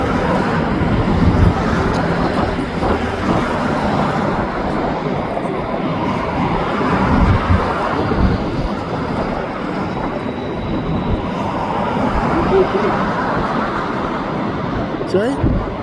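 A long CN freight train made entirely of autorack cars rolls past eastbound at Heron Road in Dorval: a continuous loud rumble and rattle of wheels and cars with steady roadway noise, while people talk nearby.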